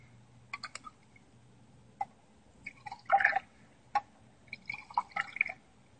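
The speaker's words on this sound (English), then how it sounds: "mix them, pour them back and forth about three times." Liquid poured back and forth between two glasses in a starch and iodine chemistry demonstration, heard as a few short splashes and drips with soft glass clinks, fairly quiet and without talk.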